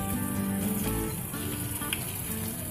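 Chopped onion dropped into half a spoon of hot oil in a pan for an egg chaat, sizzling and spattering continuously at close range with a few small clinks, no voices.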